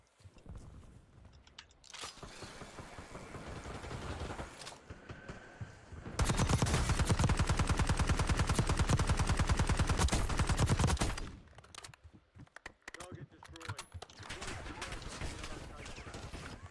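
Automatic and single gunshots ring out in a Call of Duty: Warzone match, with a sustained loud burst of rapid fire in the middle and sporadic shots and game noise before and after.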